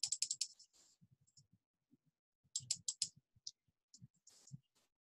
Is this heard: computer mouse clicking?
yes